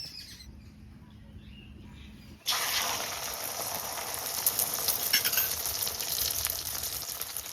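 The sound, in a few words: oil sizzling in a hot wok before frying eggs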